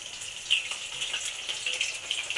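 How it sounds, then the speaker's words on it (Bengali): Chicken pakoras fry in hot oil, giving a steady faint hiss with soft crackles and small pops throughout, no voices present. "এখানে আমি একটু পকোড়া ভাজছি"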